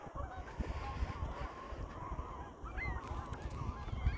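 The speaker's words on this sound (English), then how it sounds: "Bunch of geese taking off over there." A flock of geese honks repeatedly while taking off over a lake, with overlapping calls carrying across open water against a steady background rumble.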